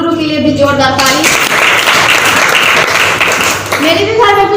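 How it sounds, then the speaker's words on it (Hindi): Loud applause fills a meeting hall in a sustained burst of clapping, framed by a speaker's voice before and after it. "हमारे दोनों महान गुरु के लिए भी जोरदार ताली"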